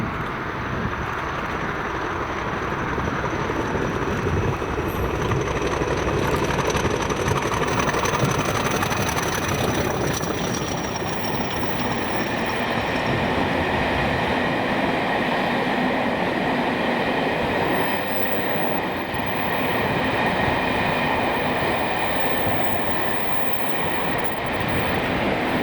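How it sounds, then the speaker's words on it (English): Class 40 diesel locomotive 40013 hauling a railtour train in Scotland, a steady loud rumbling drone with rail noise throughout, no voices. "a replacement LSL have blessed us with 40013, and this is it, 1Z48"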